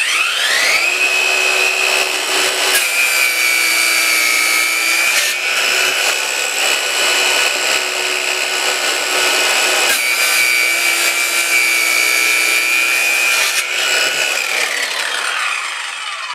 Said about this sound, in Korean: 원형톱으로 모재를 자를 때도 쓸 수가 있고요